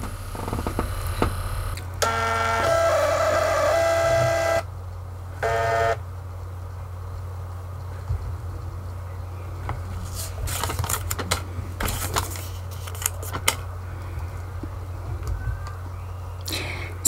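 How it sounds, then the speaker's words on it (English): A Phoneme sticker and barcode printer runs, giving a couple of seconds of whirring motor drone followed by scattered small clicks and ticks over a constant low hum. "So now I am going to print, and there we go."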